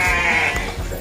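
Sheep bleat in a pen, one loud, close, drawn-out bleat with a couple of softer calls and low thumps beneath it, no talking.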